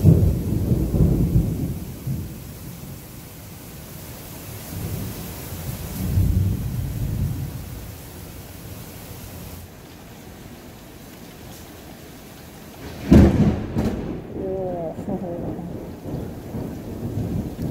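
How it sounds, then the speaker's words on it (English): Heavy rain pours steadily while deep thunder rumbles in long rolling waves, with a sharp nearby crack followed by a lingering rumble. "it's pretty crazy. It's a big storm."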